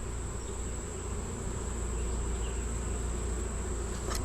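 Honey bees drone in a constant close buzz at a beehive on a farm, steady and dense throughout with no talking.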